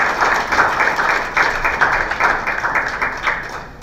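A crowd at a Kenyan official gathering applauds the Deputy President, steady moderately loud clapping that fades slightly toward the end, with no talk over it.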